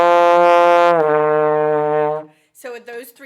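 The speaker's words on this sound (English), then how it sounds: "you're just going to move your slide really fast between the notes" A trombone, slide moving quickly between notes, plays three slurred notes, C rising to F then settling to E, with a long sustained first note and a held second note. A brief voice follows afterward.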